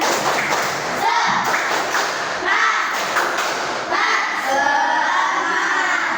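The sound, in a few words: group clapping hands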